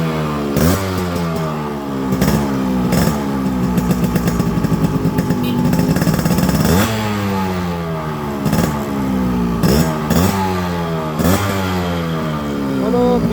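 A fresh-condition Yamaha RX 100 motorcycle with a tight engine runs close by, its revs repeatedly climbing and dropping in quick throttle blips over a steady idle, loud and continuous throughout.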